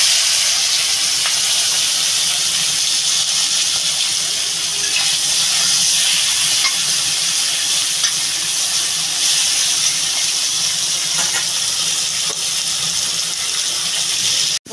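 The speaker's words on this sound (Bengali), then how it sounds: "এবার আমি মাছটা ভেজে নেব" Prawns coated in salt and turmeric frying in a pan, a steady loud hiss and sizzle running without a break, with no talk.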